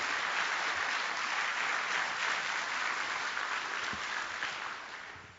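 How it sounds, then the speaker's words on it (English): Sustained applause from an audience for Maestro Stephen Thomas at an honorary doctorate ceremony for Placido Domingo, steady and dense before fading out toward the end. "Let's give a round of applause to"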